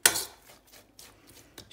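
Onion salad gets stirred in a bowl, opening with a sharp clatter of a utensil against the dish, followed by lighter scattered clinks and scrapes.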